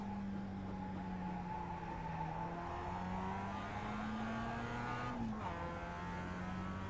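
Mazda MX-5 engine in a racing sim at Tsukuba, droning steadily at high revs, then a quick lift and drop in pitch near the end as it downshifts to second, with tyre noise underneath.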